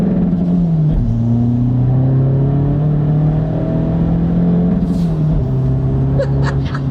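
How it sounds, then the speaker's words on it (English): A Skoda Fabia vRS diesel running nitrous pulls hard in second gear, its loud engine note climbing steadily with a brief dip at a shift-like break, heard close and alone. "We'll turn nitrous on and see what that's like."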